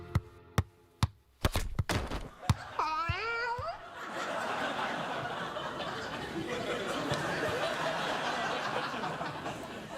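A cat lets out a drawn, wavering meow after a series of sharp taps, and then an audience bursts into loud, sustained laughter and cheering in a television studio.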